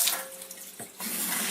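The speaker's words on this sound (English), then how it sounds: "now what we'll do is we'll run some water through" Cold tap water runs through a Kangen K8 water ionizer, a close, steady splashing rush that briefly dips and then resumes strongly.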